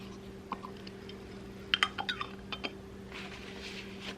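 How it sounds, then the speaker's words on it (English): Canning lids set onto glass jars of homemade cranberry juice, giving a few light, close clinks and taps clustered in a short burst over a steady low hum. "So I'm going to put my lids on."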